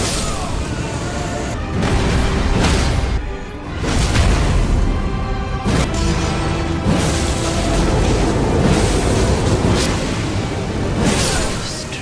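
Elden Ring's Bloodboon Ritual skill, an arcane weapon art from Mohgwyn's Sacred Spear dealing fire damage and bleed, erupts in heavy booming explosions with whooshing bursts, loud and dense across the span with a brief lull in the middle.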